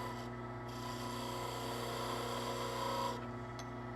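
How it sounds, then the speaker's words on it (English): A skew chisel shaves a spinning wooden Shaker pull on a lathe, a steady close rasping hiss over the lathe's low motor hum, fading briefly near the end. "make a cleaning cut with a skew chisel coming in at 90 degrees"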